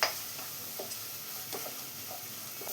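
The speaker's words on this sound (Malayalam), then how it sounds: "ഇനി ഇതെല്ലാം കൂടെ ഒന്ന് വഴറ്റിയെടുക്കാം." Onions sautéing with curry leaves and salt in a home pan for a masala bonda filling, a steady low sizzle with intermittent stirring scrapes every half second or so, moderately quiet and close, no voices.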